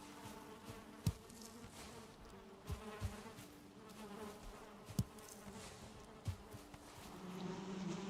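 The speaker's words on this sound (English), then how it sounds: "We've got plenty of bees." Bees buzz around beehives in a video game, a steady, faint insect drone with a few soft clicks scattered through it.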